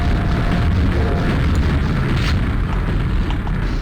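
Video game combat with constant rapid gunfire and explosions, a dense, loud and unbroken barrage of booms and bursts with no talking.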